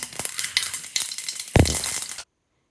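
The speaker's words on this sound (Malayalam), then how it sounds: "നമുക്കിതിലേക്കൊരു 1/4 ടീസ്പൂൺ കടുക് ചേർത്തിട്ടൊന്ന് പൊട്ടിച്ചെടുക്കാം" Mustard seeds pop and splutter in hot sesame oil for a Kerala-style gooseberry pickle, a run of sharp crackles and sizzling bursts with one louder splatter before the sound cuts off abruptly.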